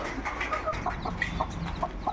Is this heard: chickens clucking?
yes